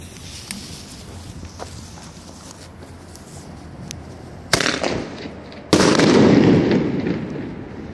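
Thunder King titanium salute firecrackers set off outdoors: two sharp, loud bangs a little over a second apart, the second followed by a crackling decay, after quiet background noise.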